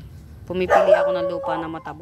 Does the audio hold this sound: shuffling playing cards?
no